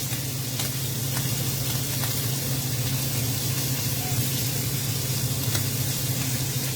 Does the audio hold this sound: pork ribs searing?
yes